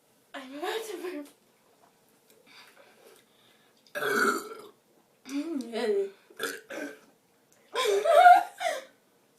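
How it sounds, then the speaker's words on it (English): A girl lets out several throaty burps in separate bursts, with short chuckles and brief talk between them in a quiet room. "I'm about to burp."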